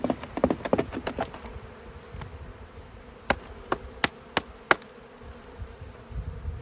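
Honeybees buzz around hives at an apiary in early spring, a continuous outdoor hum of many bees with sharp clicks and knocks from hive work layered on top, close by and with no talk.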